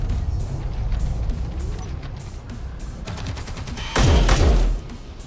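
An automated turret gun fires at spiders in Space Engineers, rapid repeated shots rattling through a rumbling background and swelling into a louder, denser burst near the end.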